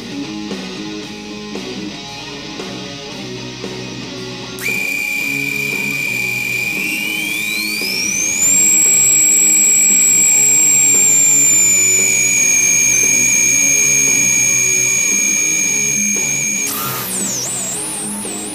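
A micro high-performance FPV drone on a Rattler frame carrying an HD camera flies outdoors. Its motors give a loud, steady electric whine that jumps in pitch partway through, climbs higher and holds, then breaks off near the end.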